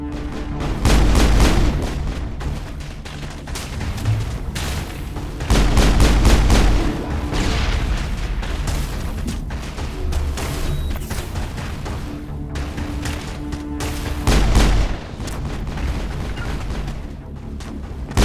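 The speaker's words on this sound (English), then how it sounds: "pretty sure I'm throwing grenades here" Grenade explosions in the video game Mass Effect 1 land as several heavy, loud booms spaced seconds apart, with dense crackling combat noise between them and no talking.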